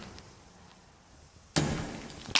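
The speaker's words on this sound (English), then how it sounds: "That was a nice explosion." A small home experiment set off indoors on a floor goes off with a sudden sharp burst after a quiet pause, followed by a brief hissing rush and a second short crack.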